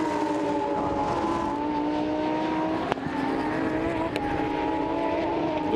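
Lamborghini Super Trofeo race cars lapping the Nürburgring in a 2019 European race, their engines a loud, steady, droning roar with shifting pitch, held continuously as cars run closely together.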